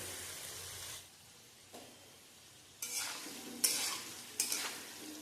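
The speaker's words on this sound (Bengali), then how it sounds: "এরপর মিডিয়াম ফ্লেমে গ্যাসটাকে রেখে আলুটাকে হালকা লাল হতে দেব।" Potatoes frying over a medium gas flame for a vegetarian dhokar dalna, a soft steady sizzle broken by several louder bursts of stirring and spatula scrapes near the pan, with no voices.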